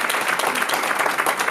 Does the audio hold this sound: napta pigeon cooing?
no